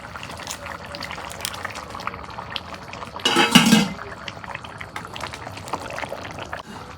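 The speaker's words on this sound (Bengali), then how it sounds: "তরকারির বলক উঠছে, মাছ ভাইজে রাখিয়ে দিছিলাম, এখন দিয়ে দিই" Tomato and potato curry bubbling at a boil in a pot, a steady soft liquid simmer with small clinks of a pan, and one louder burst of splashing partway through.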